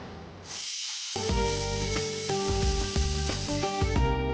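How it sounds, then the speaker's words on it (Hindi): A kitchen pressure cooker lets out a loud, sustained steam whistle with a hissing rush, starting after a brief quiet gap and continuing steadily, with pulsing tonal whistling layered over broadband hiss. "ये कुकर है ना, एकदम गलत टाइम पे सीटी बजा के मोमेंट खराब कर।"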